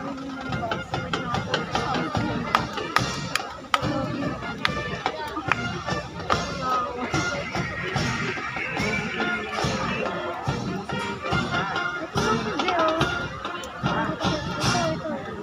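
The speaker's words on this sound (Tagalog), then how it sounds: "Puro sigawan po." A crowd of recruits at police recognition rites shouts in loud bursts over a busy, chaotic din of voices and movement, with people talking throughout.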